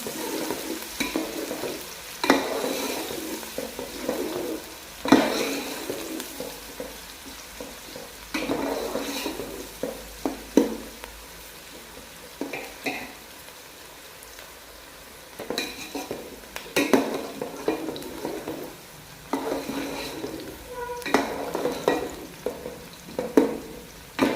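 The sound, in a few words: onions frying and being stirred in a pot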